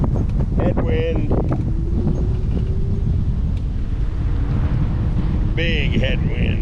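Strong headwind buffets the microphone at Summerland Key Airport in the Lower Florida Keys, a continuous loud low roar of wind noise throughout, with a faint engine drone and brief voices in the background.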